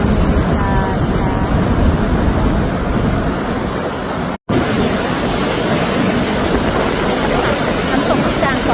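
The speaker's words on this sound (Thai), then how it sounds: "แม่น้ำไนแองเจล่านะคะไหลมานี่ค่ะแล้วก็เป็นน้ำตกไนแองเจล่าฝั่งอเมริกาค่ะ" The Niagara River rushing toward Bridal Veil Falls on the American side makes a steady, loud broadband roar of flowing water mixed with wind buffeting the microphone, with a brief dropout midway.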